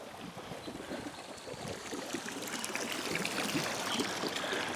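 Swimming pool jets pump water after a restart with a continuous bubbling, splashing rush that grows slightly louder over a few seconds, heard close and with no talking.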